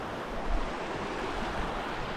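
A river in Scotland, just after rain, rushes steadily as a dense, continuous broadband wash of flowing water close by, with no voices.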